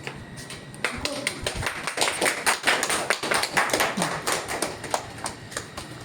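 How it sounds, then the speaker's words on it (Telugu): An audience at a Swami Vivekananda commemoration event in Mangalagiri breaks into clapping, starting scattered and building into dense, steady applause close to the microphone that lasts several seconds. "క్లాప్స్."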